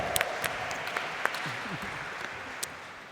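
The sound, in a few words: audience clapping at a live D&D game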